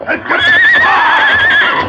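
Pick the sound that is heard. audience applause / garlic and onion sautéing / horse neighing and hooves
horse neighing and hooves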